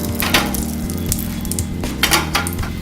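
Bay leaves sizzle in hot butter in a pan, a loud steady fry with scattered pops and a few sharp clinks of a utensil against the cookware, with no talking.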